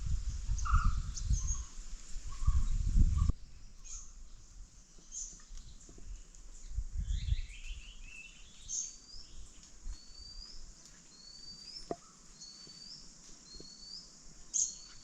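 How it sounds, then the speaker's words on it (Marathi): Many birds calling in a Konkan forest: varied chirps and short repeated whistles near and far, with rustling and low handling noise in the first few seconds, then quieter calls throughout. "किती पक्ष्यांचा आवाज येतोय बघा."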